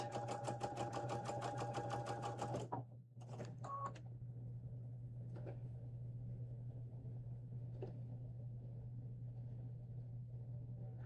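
A sewing machine runs in a steady, rapid mechanical stitching rhythm for a few seconds, then stops, leaving a constant low electrical hum with a few faint clicks afterward.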